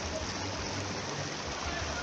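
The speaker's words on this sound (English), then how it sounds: "River is flowing" A mountainside river in Jamaica flows with a steady, close rushing of water, a continuous broadband wash with no breaks.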